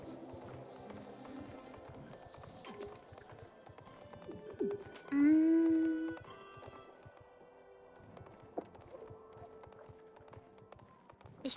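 Clip-clop of a horse's hooves in the online riding game Star Stable, a rhythmic trotting patter mixed with game music, with a brief whinny-like tone in the middle before the steady hoofbeats carry on.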